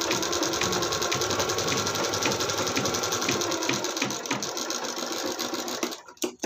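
A sewing machine stitches a blouse in a steady, fast mechanical whir of needle clatter, loud and close for several seconds before stopping abruptly near the end.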